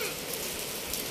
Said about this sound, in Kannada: ಮಳೆ ಬರ್ತಿದ್ದ, ಮಳೆ ಬರ್ತಿದ್ದ